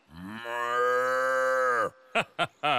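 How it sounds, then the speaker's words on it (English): A cartoon cow with four horns lets out one long, loud, drawn-out moo, followed by a few short vocal bursts. "And I've discovered a cow with four horns!"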